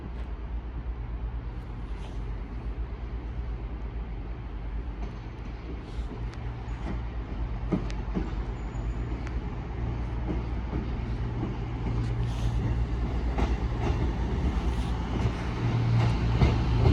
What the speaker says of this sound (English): Soon to arriving now will be the 1432 cross-country service from